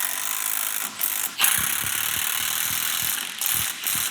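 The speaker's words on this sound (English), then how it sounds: "So I'm gonna go around now and tighten them all up." Ratchet wrench tightening bolts on a Jeep Wrangler, a steady close clicking that runs nearly throughout, broken by a few short pauses and occasional louder clunks.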